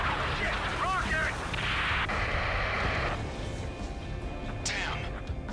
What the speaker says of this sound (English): Shit! Rocket!